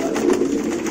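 Racer pigeons coo at a breeder's loft, a steady, close, overlapping chorus of soft throaty calls that fills the whole moment without pause.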